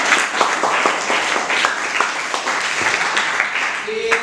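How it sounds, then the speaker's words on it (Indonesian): Applause fills a classroom during an Indonesian teacher-training session, with dense, steady clapping from a group lasting several seconds and voices mixed in underneath. "Oke, kasih aplaus lagi."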